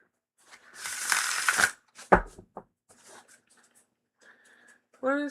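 Tarot cards are shuffled by hand in a brief riffling burst, followed by a few scattered taps and card handling, with a short vocal sound near the end.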